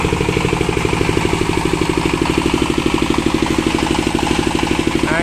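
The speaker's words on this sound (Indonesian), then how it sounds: "Gensetnya wis urip iki." A portable generator set for a celebration sound system runs steadily nearby, a loud, even engine chug with a rapid regular pulse and rattling clatter, no voices over it.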